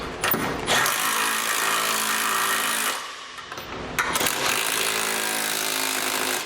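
A power tool whirs steadily while tightening bolts on trailer hitch hardware under a 2011 Toyota Sienna, running in two long continuous bursts separated by a short pause.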